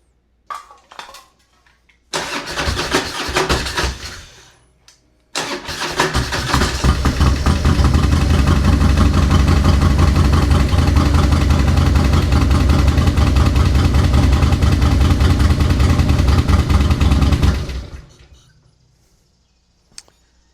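Two worn Harley-Davidson Road King motorcycles: a brief crank and stumble, then the engine catches and settles into a loud, steady, throbbing idle close by for over ten seconds before cutting off.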